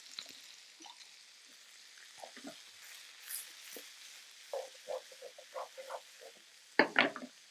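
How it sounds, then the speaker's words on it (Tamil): Small cut pineapple pieces for Kashmiri chicken curry sauté gently over a low flame, giving soft, scattered sizzles and pops that grow busier near the end, with one louder crackling burst. "இந்த பைனாப்பிளை வந்து ஒரு 2 நிமிஷம் அப்படியே லோ ஃப்ளேமில் நல்லா வதக்கி எடுத்துக்கலாம்"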